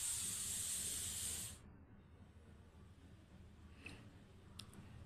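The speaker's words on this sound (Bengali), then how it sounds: "এই যে এখানে আমি জল ঢেলে দিলাম" Water poured into a hot pan of curry with jackfruit seeds and greens gives a loud sizzling hiss for about a second and a half, then drops to quiet simmering with a few faint clinks.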